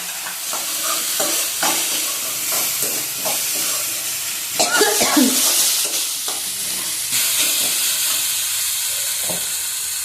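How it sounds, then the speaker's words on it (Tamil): Onions and tomatoes sauté in a pan with turmeric and salt, giving a loud continuous sizzle with repeated scraping stirs and a brief burst of hissing midway, heard close and with no voices. "வெங்காயம் தக்காளியும் தேங்குற அளவுக்கு வதக்கிக்கோங்க."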